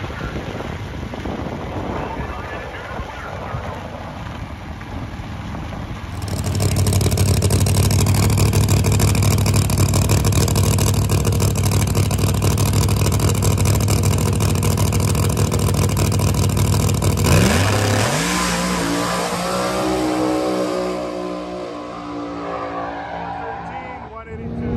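Drag race car launching down the track at BIR, its engine roaring loud and steady for about ten seconds before falling away, with talk over the engine noise before and after the run.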